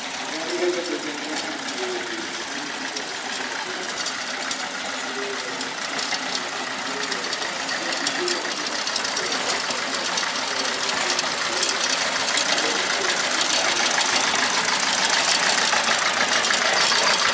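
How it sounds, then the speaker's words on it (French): An old log-splitting machine's engine running at an outdoor country fair, a steady loud mechanical clatter with dense rattling over a constant drone, and voices faintly audible underneath. "here we've got all the really old machines for cutting up wood, for splitting logs"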